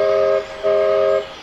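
A steam engine's whistle on a branch line gives two steady, sustained toots in quick succession, the second one longer, sounding loud and clear against a faint background.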